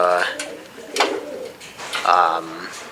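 A racing pigeon cockbird coos close by in a loft, giving soft, low throaty coos in two or three phrases, with some faint background sound between them.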